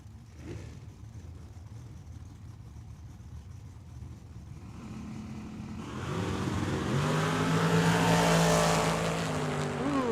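A 1967 Camaro and a dragster launching side by side at Tucson Dragway, engines rising from a steady idle into a loud, sustained roar of acceleration that swells and holds near the track.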